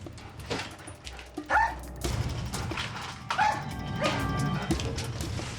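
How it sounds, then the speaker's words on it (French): A police sniffer dog barks and yips a few times, short sharp calls over background noise and rustling. "les gendarmes ont une arme fatale, Falco, un chien renifleur de billets"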